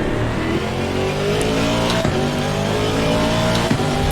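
A 2019 Aston Martin GT race car in Assetto Corsa Competizione at Spa-Francorchamps in the rain, its engine droning loud and steady with harmonic whine and brief shift blips, constant from start to finish.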